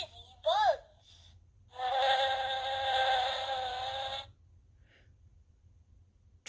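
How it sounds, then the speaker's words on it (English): A Sesame Street interactive button sound book plays a buzzing-bugs sound effect: a short chirpy tone, then a steady electronic insect buzz lasting about two seconds before cutting off into quiet. "The busy bugs buzz from rows to rows."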